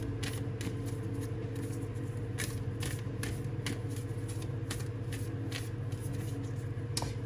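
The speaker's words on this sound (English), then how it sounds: "let's get one of these oracle cards" Oracle cards shuffled continuously up close, a dense steady riffle of paper card edges with quick flicking bursts throughout.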